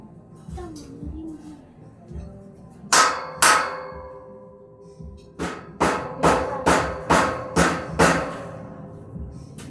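Sharp hammer strikes ring out, two blows followed by a steady series of about seven evenly spaced hits, loud and close.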